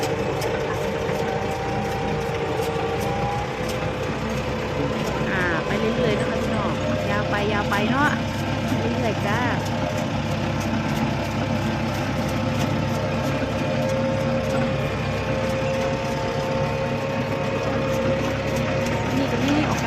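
A tractor engine runs in a sugarcane field, recorded from on board: a continuous, close, low rumbling drone with mechanical clatter. Someone talks over it throughout.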